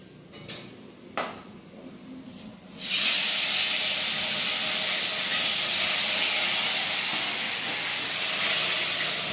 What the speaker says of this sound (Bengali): মাছগুলো ভেজে নিয়ে আগে।